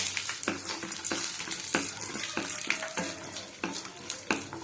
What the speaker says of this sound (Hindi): कड़ाई रे आउ टिके तेल देई एथिरे गोटा बादाम आउ काजू को पके भाजी नवा